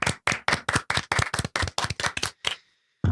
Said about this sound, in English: Let's give a big round of applause to the Pueblo County Band